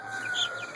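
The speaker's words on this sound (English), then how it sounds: "chickens are all growing, starting to get their feathers." Young meat chickens in a raised flock of about a hundred, roughly ten days old and feathering out, give a brief burst of soft clucking and peeping nearby, with no voices.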